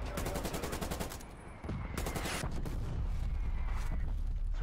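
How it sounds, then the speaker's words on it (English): Incoming artillery fire in a video game: rapid bursts of heavy gunfire and impacts, loud and dense, with a brief lull midway before the barrage resumes. "incoming artillery"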